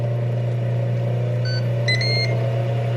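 An appliance timer gives a few short electronic beeps over a steady low mechanical hum, near a kitchen where breakfast food is being cooked.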